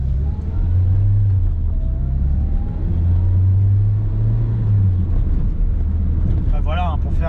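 A 1993 Renault Twingo with a 1.2-litre 55 hp engine, heard from inside as a loud steady engine drone rising and easing while it drives, with a brief high squeak near the end.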